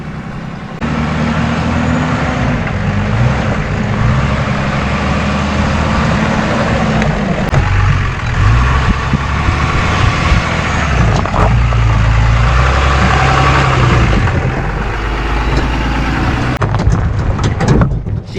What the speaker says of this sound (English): This truck crawls so well. It has so much torque.